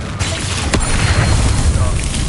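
A Confringo blasting spell detonates in Hogwarts Legacy, a dense, loud burst of booming rumble with a sharp crack near the middle, set against continuous game combat noise.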